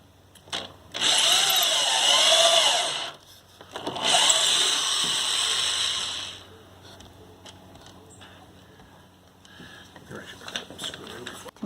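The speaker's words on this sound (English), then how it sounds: "We did the pilot holes and then put the screws in." A power drill driving screws into the wood of a raised garden bed: two loud whining bursts of a few seconds each, close up, followed by quieter handling noise, light knocks and rustling.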